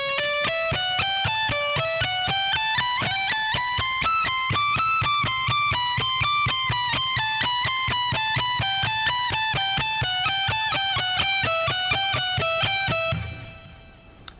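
An electric guitar plays a slow speed-soloing exercise, picking evenly spaced single notes in a rising and falling run with a bright, slightly distorted tone. The run stops cleanly near the end.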